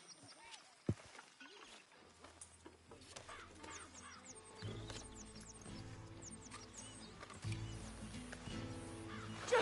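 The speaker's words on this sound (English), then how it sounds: "Just get back on the horse," In Red Dead Redemption II, a horse's hooves clop along under swelling game music and talk, the galloping faint and rhythmic behind the score.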